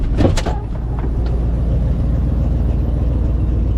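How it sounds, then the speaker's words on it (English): Truck engine idling nearby in a backyard, a steady low rumble after a few brief knocks and clunks at the start. "so I'm bringing the truck out."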